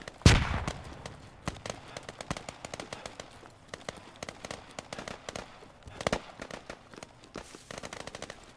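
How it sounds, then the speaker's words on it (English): Grenades go off in the military shooter Squad, one loud nearby blast at the start and another mid-way, amid a dense crackle of distant gunfire and scattered battlefield thumps. "Throw grenades now."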